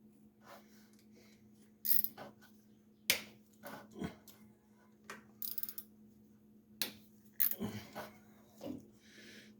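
A ratchet cracks loose the timing cover bolts on a 1999 Ford F150 during a timing chain replacement, with quiet short bursts of clicking and occasional metallic knocks spaced apart in a still garage.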